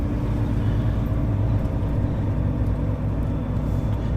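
A car reverses slowly into a tight parking bay, its engine giving a steady, low, close rumble that holds unbroken throughout with no voices.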